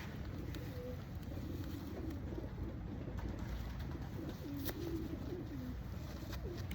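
Racing pigeons coo softly inside a loft, their low murmuring calls faint against a steady background hiss and rustle, with no talking.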